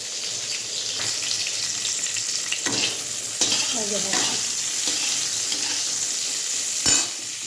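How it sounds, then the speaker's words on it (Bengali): Cauliflower pieces frying in a pan after fish, a continuous close hiss of hot oil with occasional stirring scrapes and small pops, steady throughout with no talk. "মাছ ভাজা হয়েছে, ফুলকপি ভাজা হচ্ছে।"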